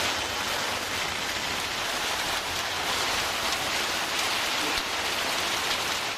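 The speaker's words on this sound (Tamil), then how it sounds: "இடி மின்னலுடன் சுமார் 1 மணி நேரத்திற்கு மேலாக கனமழை பெய்தது." Heavy rain pours steadily during a thunderstorm in a Tamil Nadu village, a dense continuous hiss of rainfall filling the whole stretch, with no thunder claps standing out.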